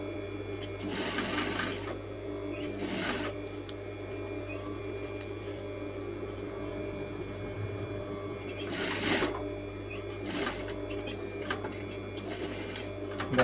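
A sewing machine stitches a coat collar, a steady low mechanical hum with a few louder bursts of rapid needle clatter rising above it.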